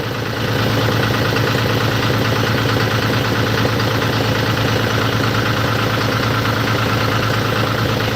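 A John Deere tractor engine idles with a steady, even throb after a brief quieter start, close and loud, with a constant mechanical hum and no talking.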